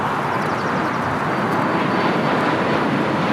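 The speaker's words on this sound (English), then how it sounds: "Southwest Airlines Flight 1780 heading to Atlanta, Georgia. 737 700. Runway 25 right, clear for takeoff" Southwest Airlines Boeing 737-700 bound for Atlanta on its takeoff roll from runway 25 right at LAX, a steady loud broadband jet engine roar holding constant throughout with no voices.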